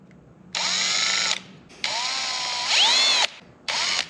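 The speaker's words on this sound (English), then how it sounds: "I'm going to use an extended length drill bit to drill straight through both pieces" A power drill with an extended-length bit bores through two stacked pieces on a diesel dually mini truck cab and chassis, running in three loud, close bursts with pitch dips under load.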